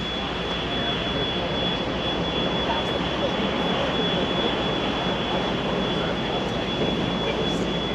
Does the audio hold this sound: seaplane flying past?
yes